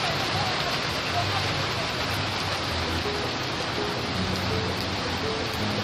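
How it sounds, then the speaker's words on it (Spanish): Steady, dense rain hisses continuously in Cali, Colombia, with a faint voice speaking softly beneath the downpour. "Esta lluvia que hoy nos azota acá en la ciudad de Cali"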